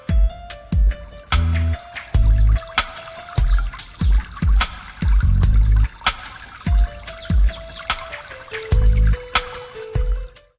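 Water poured and trickling into a container during a beneficial-microbe production practical, arriving in repeated bursts with pauses between them, close and fairly loud, no voices.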